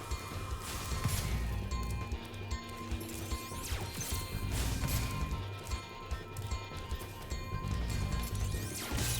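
In Spyro 2: Ripto's Rage Reignited, head-bash whacks strike an enemy, giving repeated thuds and crashes over the game's background music and effects.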